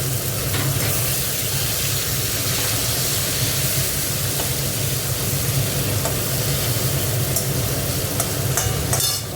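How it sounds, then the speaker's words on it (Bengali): Tomato goes into a pan of browned frying onions, and a loud, continuous sizzle and hiss carries on steadily with occasional stirring scrapes close by. "পেঁয়াজটা ভাজা ভাজা দেখো, এবার টমেটোটা দিয়ে দিচ্ছি"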